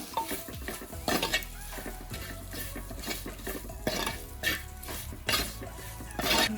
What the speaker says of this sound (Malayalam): ഇത് ഒന്ന് പച്ച മണം മാറുന്ന വരെ ഒന്ന് ചൂടാക്കി എടുക്കുക